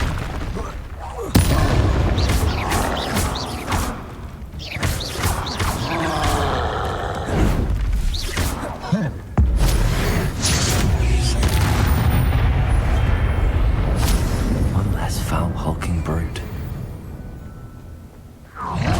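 Booming explosions from the Confringo blast spell during combat in Hogwarts Legacy, several loud bursts and crashes spread across a busy, dense battle din with a spoken voice mixed in.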